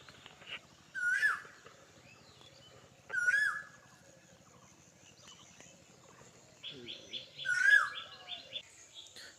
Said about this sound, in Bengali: ওই গাছের উপরে একটা কোকিল ডাকতেছে,